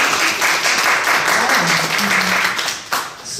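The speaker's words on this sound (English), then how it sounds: "Give her a round of applause for that, please." Audience applause at an interview event, a steady wash of clapping lasting a few seconds with a person's voice talking over it, the clapping thinning toward the end.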